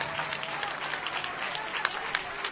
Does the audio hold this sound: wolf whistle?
no